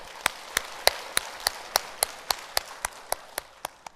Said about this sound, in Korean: 다시 한번 우리 사랑의 박수